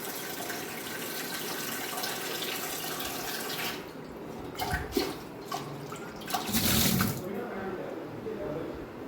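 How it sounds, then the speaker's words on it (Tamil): Soaked basmati rice being rinsed in water for mutton biryani, with running tap water and splashing that swell in short bursts midway through, heard close over steady background noise. "இந்த நல்ல தண்ணியில் ஒரு தடவை, ஃபில்டர் தண்ணியில் ஒரு தடவை கழுவணும்."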